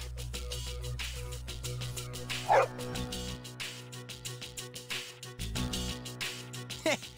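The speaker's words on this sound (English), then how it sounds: "Man, you're one loyal dog." A dog in the video game Persona 3 FES gives short barks and yips mixed with whimpers. Several close, clear calls sit over soft background game music.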